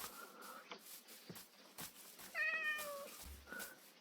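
A cat in the video game Minecraft meows a few times, short faint calls with one longer wavering meow in the middle, heard alone over quiet background.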